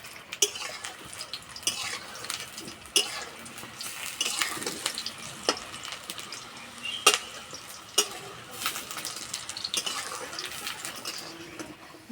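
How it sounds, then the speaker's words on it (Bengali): Besan fritters fry in hot mustard oil with a soft, steady sizzle punctuated by sharp clicks and scrapes of a utensil, close and moderately quiet. "বেসনের বড়াগুলো আমি সর্ষের তেলে ভেজে নেব।"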